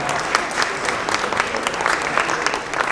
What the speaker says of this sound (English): Nice round of applause for that